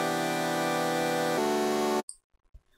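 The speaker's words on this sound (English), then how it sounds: "The Massive patch sounds like this" Massive synth saw-layer patch in a melodic bass style: a dense, buzzing sustained chord, loud and upfront, changing to a new chord partway through, then cutting off into near silence with faint clicks.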